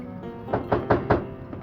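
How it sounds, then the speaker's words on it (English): Four firm knocks on a door, evenly spaced and close, followed by a softer fifth tap, sounding hollow and wooden. "they heard another knock at the door"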